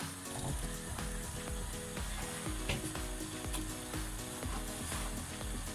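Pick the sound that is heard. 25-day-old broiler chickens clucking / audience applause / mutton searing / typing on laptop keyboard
mutton searing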